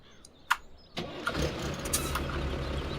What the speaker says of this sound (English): Let's get back to the tractor and we'll have a quick drive round.